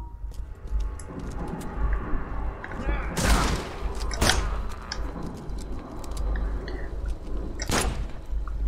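Gunshots in the horror detective game The Sinking City: several sharp, loud reports spaced a second or more apart, set against rumbling game ambience and a speaking voice.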